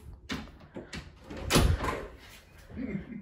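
A door inside an Airbnb house opens and bumps, with a few knocks and a louder thud midway, close by, while people talk faintly around it.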